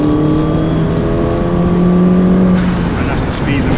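A Mini Cooper S R56 pulls onto a motorway in third gear from about 40 mph, its engine note rising steadily under a speaking voice, with road and wind noise throughout.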